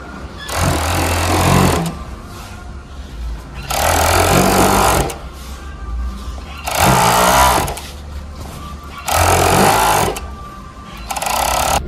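A sewing machine stitches denim for a pair of jeans, running in four loud, even bursts of rapid mechanical chatter, each about two seconds long, separated by quieter pauses with handling sounds.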